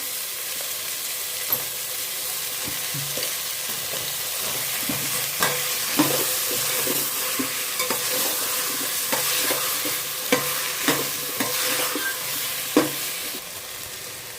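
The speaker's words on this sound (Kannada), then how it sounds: "ಬದನೆಕಾಯಿ ಫ್ರೈ ಆಗಿದೆ. ಶುಂಠಿ ಬೆಳ್ಳುಳ್ಳಿ ಪೇಸ್ಟ್ ಹಾಕ್ತೀನಿ." Ginger garlic paste fries with brinjal in a hot pan: a steady, loud hiss of sizzling oil carries throughout, punctuated by frequent scraping stirs and taps of a spatula close by.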